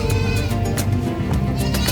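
Goats at a busy livestock market bleat amid a loud, dense crowd din, the animal cries blending with steady chatter and background noise.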